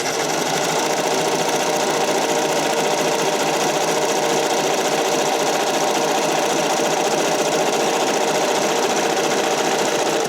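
A sewing machine runs steadily while stitching a flat rolled hem on spandex for figure skating and dance costumes, a loud continuous whirring motor buzz with fast needle clatter that never lets up for about ten seconds, with no talking.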